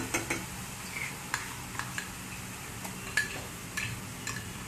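A utensil stirs paneer tikka masala gravy in a pan over a low flame, making soft intermittent scrapes and light clicks over a faint steady sizzle, close and without talking.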